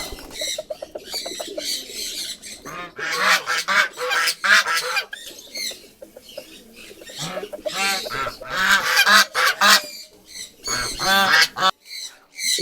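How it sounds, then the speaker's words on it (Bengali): Loud, harsh peacock calls ring out repeatedly in bursts, honking and squawking wails overlapping one another close by, with brief pauses between volleys. "চমৎকার আওয়াজটা শুনলেন এটা হচ্ছে ময়ূরদের ডাক"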